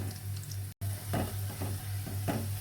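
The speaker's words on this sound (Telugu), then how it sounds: "2 పచ్చిమిరపకాయలు వేసుకుందాము. బాగా ఫ్రై చేసుకుందాము." Onions and green chillies fry in a pan for a drumstick curry, a steady close sizzle with a few scraping stirs; there is no talking.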